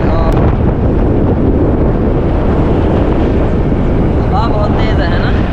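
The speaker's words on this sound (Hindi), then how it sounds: "हवा बहुत तेज है ना।" Loud, constant wind buffeting the microphone of a motorbike rider on a road trip to Jakarta, Indonesia, a dense roaring rumble with no break; a voice is faintly heard near the end.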